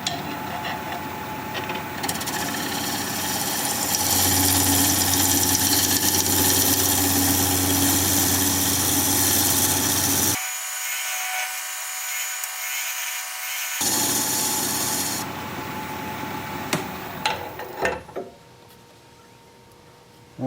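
Wood lathe spinning a turning blank at 1,000 RPM for a flower pot, a loud continuous motor hum and whir that cuts out briefly, resumes, then drops to quieter knocks near the end.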